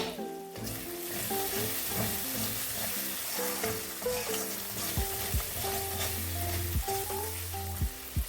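Sliced green chillies sizzling in a tamarind fish curry with katla fish, a loud continuous frying hiss joined by clattering stirs and scrapes of the ladle through the pan, without any talking.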